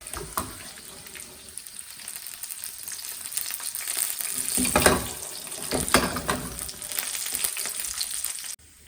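Thick pork belly bacon lardons, cut about three-quarters of an inch, fry and sizzle steadily in a pan, with occasional stirring scrapes and louder spatters over a constant crackle.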